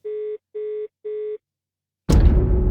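Phone-call disconnect tone in the Blue Archive game: three evenly spaced, clean electronic beeps, a brief pause, then a sudden burst of noisy sound. No voices.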